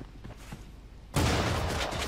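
Sustained loud burst of rapid gunfire in the video game Creative Destruction erupts after a second of quieter background noise, continuing steadily to the end.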